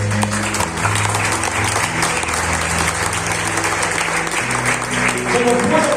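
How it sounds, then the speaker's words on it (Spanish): A church congregation applauds Jesus of Nazareth during a sermon, with steady loud clapping filling the room throughout, over a sustained low organ or keyboard chord and murmuring voices. "aplauda a Jesús de Nazaret"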